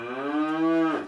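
A cow gives one long, low, drawn-out moo lasting about a second, loud and close, in a Hindi comic-style animation.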